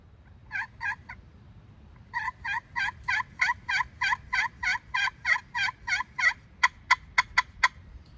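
Slate pot turkey call worked with a striker, sounding a pair of yelps, then a long even run of clear yelps, and finally a quicker, sharper series of clucks, close and alone.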